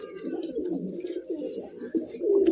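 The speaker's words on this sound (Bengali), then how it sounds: "দেখতে পাচ্ছ নর পায়রা, সবই নর, জোড়া নাই।" Male pigeons in a loft cooing, repeated soft throaty coos overlapping close by, with no speech.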